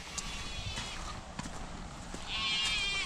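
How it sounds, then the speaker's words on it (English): Goats bleat in a rough outdoor setting, calls rising briefly over background noise, with a louder burst of bleating near the end. "Them old goats out there hollering."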